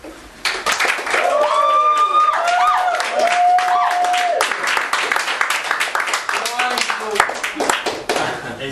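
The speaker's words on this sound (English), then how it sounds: "please give a huge round of applause to Angel" A crowd applauds steadily for a spoken word performer at an anti-hate poetry evening in London, with a voice briefly calling out over the dense, sustained clapping before it thins.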